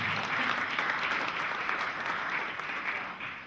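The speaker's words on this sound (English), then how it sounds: "Clap for Gold Coast Events." Audience applause for the Gold Coast Events organizing team at a formal speech event, a dense, steady wash of many hands clapping at moderate distance, fading slightly at the end, with no voices over it.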